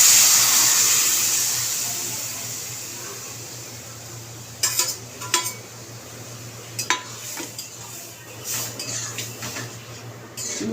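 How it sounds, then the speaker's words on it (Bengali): Chana dal poured into a pan of sautéed spices and stirred, a hissing rush followed by scattered scraping and clinking of a spoon against the pan over a low steady hum. "এবারে ছোলার ডালটা ঢেলে দেবো আস্তে করে।"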